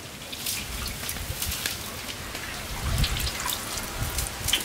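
Oil heats in a pan for buffalo foot nihari, giving a continuous soft crackle and spitting patter like light rain, with fine pops scattered throughout at close range.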